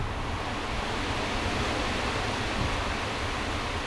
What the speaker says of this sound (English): A little gust there.